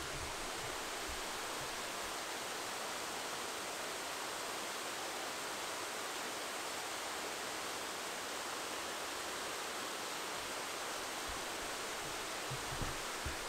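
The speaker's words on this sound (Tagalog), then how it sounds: "This is Nilutod Falls." Nilutod Falls in Cebu pours as a steady, dense roar of falling water that holds even and unbroken from start to finish.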